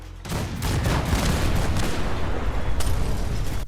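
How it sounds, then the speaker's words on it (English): A 6-inch naval cannon firing in Fallout 4 produces a loud, dense burst of booming blasts that rolls on for several seconds as a continuous barrage, with no speech. "what scares people more than a 6-inch naval gun being fired in the general direction?"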